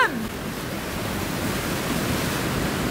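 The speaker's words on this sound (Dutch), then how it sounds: "En nu zouden de golven moeten komen." Wave pool at a waterpark as the waves start, a broad continuous rushing surge of churning water that holds steady and loud for several seconds, with no talk over it.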